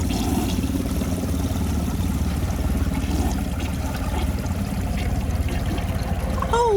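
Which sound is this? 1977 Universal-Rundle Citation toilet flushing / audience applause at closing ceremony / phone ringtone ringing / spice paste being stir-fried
1977 Universal-Rundle Citation toilet flushing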